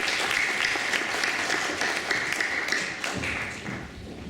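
Applause at a school sports colours awards ceremony honouring a badminton mention, a sustained patter of many hands that thins and fades toward the end.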